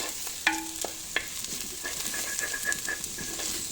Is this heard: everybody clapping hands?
no